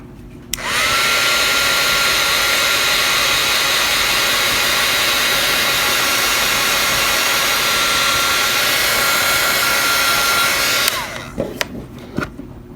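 Heat gun warming sculpting clay: a loud, steady roaring blow that starts abruptly, runs unbroken for about ten seconds, then cuts off, followed by a few soft handling clicks.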